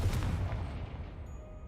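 A Confringo blasting spell goes off in a Harry Potter video game: one loud, low boom with a sharp onset, rolling into a dull rumble that fades slowly.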